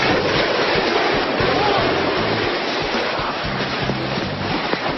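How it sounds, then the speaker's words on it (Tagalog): Ocean waves roll and wash in a steady, loud broadband roar with churning surf texture, continuous throughout, with faint low voices underneath. "Mga alon, no?"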